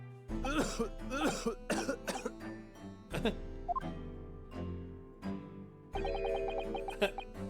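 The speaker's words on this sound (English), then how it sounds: "Except maybe this bloody cough that I have." A game character in The Great Ace Attorney Chronicles coughs in several harsh, throaty bursts over soft background music, with a clear gap before a final chiming musical sting.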